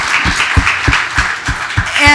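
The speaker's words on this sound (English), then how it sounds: "Can I hear some clapping?" Audience at a town hall clapping in a steady rhythmic beat, roughly three claps per second, loud and close over a background murmur.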